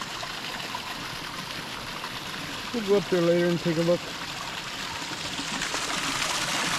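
A stream runs over limestone in the woods near Bishop Bay Hot Springs in Kitimat, BC, a continuous soft rushing and trickling throughout, with someone briefly speaking over it midway.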